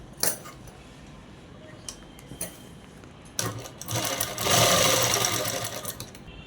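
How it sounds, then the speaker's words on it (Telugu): A sewing machine stitching dress fabric, running in short bursts and then one longer steady whirring run near the end, close and moderately loud. "ఇలా అనేది కుట్టు వేసేసుకోవాలి."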